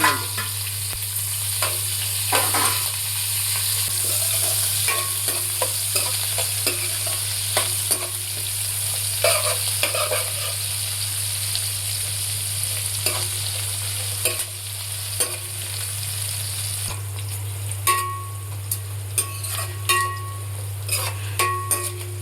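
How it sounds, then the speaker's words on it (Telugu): Onion and green chilli fry in biryani masala in a pan for a prawn dum biryani, sizzling steadily and up close, with frequent stirring scrapes and light utensil clinks throughout. "దీంట్లోనే పచ్చిమిర్చిను, ఉల్లిపాయ వేసుకొని ఫ్రై చేసుకున్నాం."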